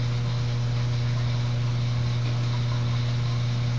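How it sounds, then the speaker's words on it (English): An air conditioner and a washing machine running together indoors, a steady low mechanical hum with a strong droning tone and faint hiss, constant and unchanging throughout. "The AC and the washing machine is going on."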